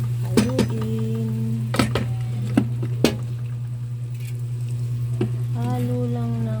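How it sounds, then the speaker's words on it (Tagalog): Peanuts being stirred in a metal pan, with several sharp clinks and scrapes of the spoon spread over a constant low hum and faint sizzle, close by and with no talk. "Haluin ang mani."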